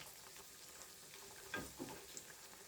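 Mixed pakoras fry in oil over a medium-low flame, a faint steady sizzle with a few soft clinks and bubbling pops near the end.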